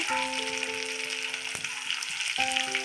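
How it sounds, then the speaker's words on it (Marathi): Onion, capsicum and cauliflower frying in a pan for veg soya manchurian, a continuous close sizzle with a couple of sharp utensil taps and a faint tonal hum underneath, no voices. "थोडं लाल होईपर्यंत फ्राय करून घ्यायचं कांदा शिमला मिरची गोबी आणि कांदा पहिला टाकते"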